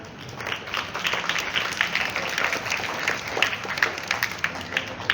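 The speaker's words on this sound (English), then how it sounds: "So give a huge round of applause for them." A school morning assembly audience applauds students with a steady, dense wash of clapping that holds for several seconds at moderate volume, with scattered louder claps near the end.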